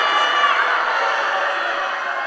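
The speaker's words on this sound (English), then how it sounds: "Crowd really getting into this in round one." Crowd at a women's boxing match cheering and shouting steadily in round one, a broad, continuous roar at moderate distance with no breaks.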